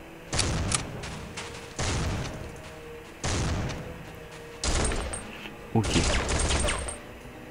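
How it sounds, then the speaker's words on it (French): Bursts of machine gun fire in the shooter game Soldier of Fortune II, five loud rattling volleys each lasting about a second, spaced by short gaps, with someone briefly speaking. "on va essayer d'esquiver la putain de mitrailleuse"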